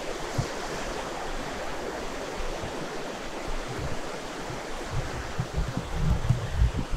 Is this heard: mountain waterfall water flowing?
yes